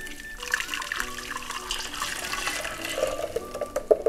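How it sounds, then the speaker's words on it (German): Liquid from tempered eggs poured back into a cooking pot: a soft, continuous pouring and splashing sound, fairly quiet, with a few brighter drips and clinks near the end. "Die Flüssigkeit nun wieder zurück in den Topf geben."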